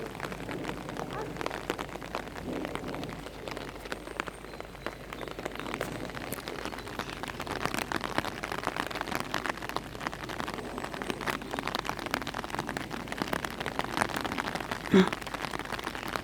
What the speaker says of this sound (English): Here we are in the rain, hiding from the rain with your umbrella.